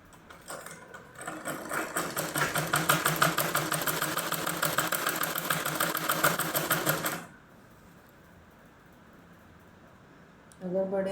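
A sewing machine stitches a child's kurta-style garment in a steady, fast mechanical rattle for about seven seconds, then stops, leaving quiet room tone before a brief restart at the end.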